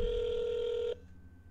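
A telephone call ringing out to voicemail: a steady electronic ring tone holds for about a second, then cuts off abruptly, leaving only faint line hiss.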